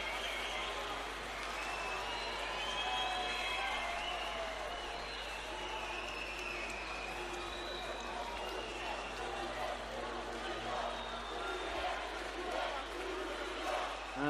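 A basketball crowd at a FIBA U18 European Championship semi-final between Slovenia and Turkey cheers and applauds in a large arena, a sustained, distant roar and clapping beneath a commentator's talk.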